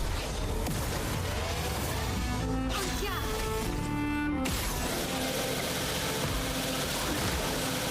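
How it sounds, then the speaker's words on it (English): Car exhaust in a video game roars as a steady, dense, loud drone with tonal engine lines, briefly dipping and shifting pitch midway before carrying on at full volume. "I hate that exhaust"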